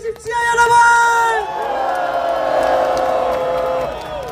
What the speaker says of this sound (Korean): 다시 한번 환호를 올려 주십시오